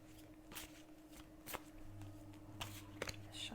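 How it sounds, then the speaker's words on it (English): Tarot cards being shuffled by hand, soft scattered riffles and slaps in irregular bursts, quiet and close against a faint low background hum. "Shuffling the cards."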